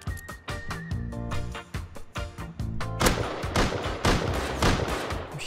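Rapid gunfire from the Rust survival video game, with a steady burst of sharp repeated shots for the first few seconds, then a denser, louder volley of overlapping shots and impacts with no voices.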